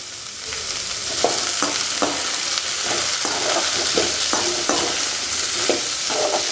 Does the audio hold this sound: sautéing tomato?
yes